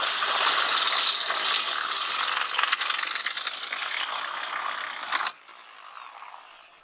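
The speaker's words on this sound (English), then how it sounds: "We're going to be cutting this pipe off with the sawzall" A sawzall reciprocating saw rasps through a metal greenhouse pipe, giving a continuous, close, buzzing cut that stops suddenly and leaves quieter room sound behind.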